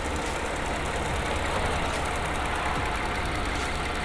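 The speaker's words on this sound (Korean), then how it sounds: "엔진 소리 일정합니다." A 10th-generation Lincoln Continental 3.0 Presidential AWD idles with the hood open, a steady, even engine hum heard close up with no talk.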